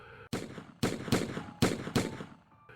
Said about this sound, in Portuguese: voltamos a desferir diversos tiros de espingarda agora em seu peito